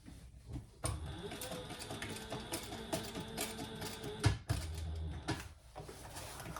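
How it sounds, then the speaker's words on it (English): A sewing machine runs in bursts while stitching around the edge of a triple-zipper crossbody bag, its fast mechanical chatter starting and stopping with brief pauses as the fabric is turned. "And then sew all the way around."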